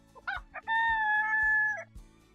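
A chicken in the video game ISLAND lets out a few short clucks followed by a long, drawn-out crowing call, clear and close, with rhythmic low thumps of game music underneath.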